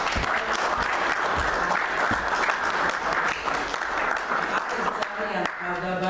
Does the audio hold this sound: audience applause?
yes